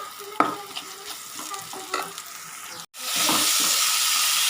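Ginger and garlic stir-fry in a pan, with sharp scraping strokes of stirring over a sizzle that swells abruptly into a loud, continuous frying hiss.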